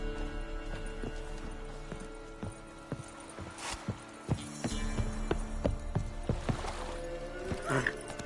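Horse hooves clip-clop in a steady, moderately close rhythm over a low ambient bed, with scattered creaks and a faint voice.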